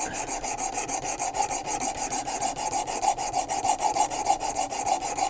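Steady rasping of a knife blade drawn over a sharpening stone on a WorkSharp Precision Adjust, repeated rhythmic strokes at close range, continuous and fairly loud with no voices.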